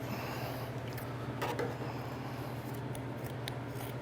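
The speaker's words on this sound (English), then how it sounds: "I'm going to cut from right below the sleeve all the way across" Scissors snip through T-shirt fabric with a few crisp cuts over a steady low hum of room noise.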